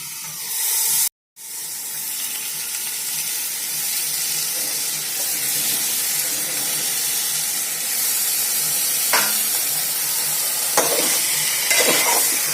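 Washed mutton sizzles steadily in hot oil with turmeric for a mutton curry. The frying is close and even, with stirring clatters and a short break near the start, and no one speaks.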